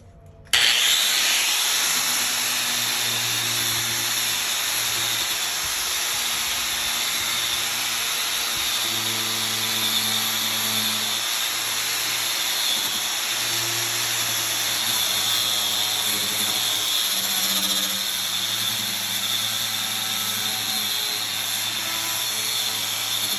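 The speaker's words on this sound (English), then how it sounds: "I'm going to hit it with a soft bristle first, or wire bristle I should say, and then the coarse braided one" A power-driven wire bristle brush grinds rust off metal with a loud, sustained whirring drone that starts abruptly and keeps a steady pitch with slight load changes throughout.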